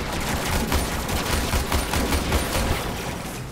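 Dense, continuous automatic gunfire from a machine gun in the video game Warframe, a loud steady rattle of rapid shots layered with battle noise, running unbroken for several seconds.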